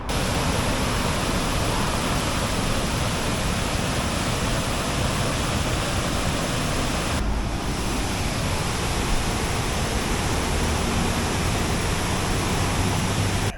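A flood-swollen river rushes past houses in Leominster, Massachusetts, a loud, continuous roar of water close by with only a brief dip partway through.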